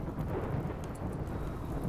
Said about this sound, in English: And it starts to rain.